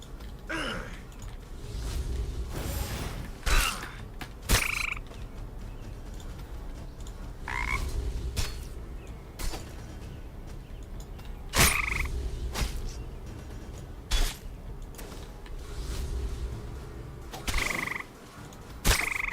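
Poppy Toad creature in a video game giving repeated deep, raspy croaks at irregular intervals, each a short loud burst over a continuous low ambient bed.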